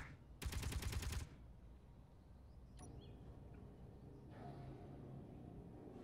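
Gunfire in the space video game Space Engineers, a loud burst of rapid automatic shots lasting about a second, followed by faint distant rumbling and a few quieter impacts.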